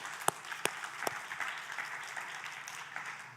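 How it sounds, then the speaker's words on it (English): A church congregation gives a round of applause, a few sharp individual claps at first and then softer, scattered clapping that fades to a quiet, distant patter. "Let's give them one more round of applause."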